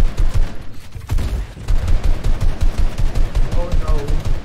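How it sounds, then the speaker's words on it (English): Shotgun fire in the Fortnite video game comes as a rapid, dense crackle of gunfire in quick bursts, loud and close amid other game noise. "Is that a shotgun?"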